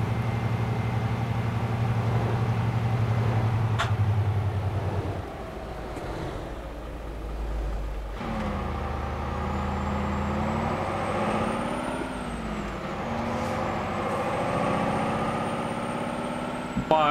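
A two-axle Brazilian truck rig on the road, its engine droning loud and close before the engine brake engages and the pitch drops into a deeper, rumbling exhaust tone, with a whining rise and fall afterward.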